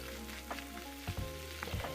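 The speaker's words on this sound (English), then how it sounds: "you can actually fry it for extra 1 minute before you switch off your fire" Curry- and Maggi-seasoned vegetables for a Nigerian plantain frittata sizzle steadily in a pan, with a constant close frying hiss and a few soft stirring knocks, no voices.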